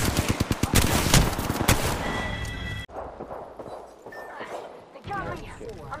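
Rapid gunfire in Apex Legends, a burst of sharp repeated shots for the first half followed by scattered softer game effects, with a voice talking underneath.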